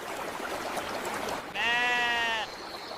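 A single drawn-out sheep bleat rises clearly over a steady background hiss, lasting about a second before fading back to the constant noise.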